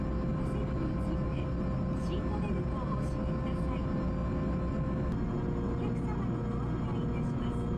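Jet-engine boat taking off, heard from inside the cabin: a steady, loud broadband roar and rumble runs through the whole stretch without letting up.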